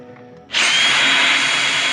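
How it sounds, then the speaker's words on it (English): A DeWalt 20 volt max drill with a 4 amp-hour battery, rigged as a boat motor, starts up abruptly after a quiet moment and then whines steadily and loudly at close range. "A 20 volt max Dewalt drill, 4 amp hours."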